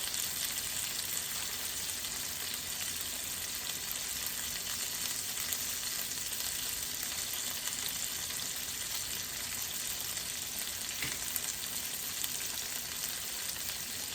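Smash burgers topped with cheese fry in a pan, giving a constant even sizzle at moderate level with no talking over it.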